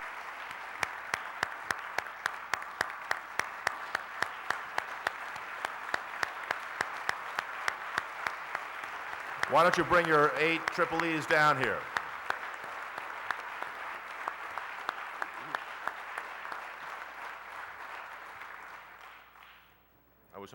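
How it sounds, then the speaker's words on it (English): Town meeting audience applauding steadily, many hands clapping in a sustained even patter that fades toward the end, with someone speaking over it partway through. "for those of you who started to clap"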